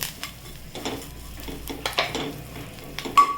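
Homemade black masala sautés in a pan at a soft, uneven sizzle. Intermittent scraping and clinking strokes of a utensil stir it, with a sharp metallic tap near the end.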